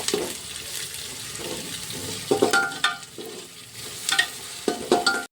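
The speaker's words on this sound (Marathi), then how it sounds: "आता आपल्याला टाकायचं अद्रक लसूणचं पेस्ट" Onion with ginger-garlic paste frying for a vegetable pulao: a moderate sizzle with bursts of scraping and stirring at irregular intervals, no talk.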